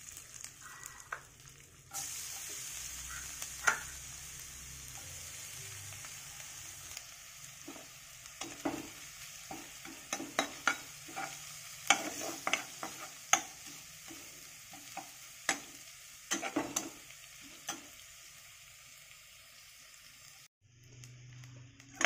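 Crushed ginger and garlic frying with spices in a pan for a dal and potato dish, a steady close sizzle broken by repeated scraping and stirring strokes, with no talk.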